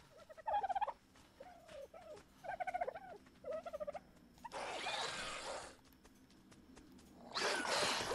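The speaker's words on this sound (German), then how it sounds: "Aber wieso läuft hier ein Truthahn rum?" A turkey in ARK: Survival Evolved gobbles in four quick, rattling bursts, close and clear, followed by two longer rushing noise bursts.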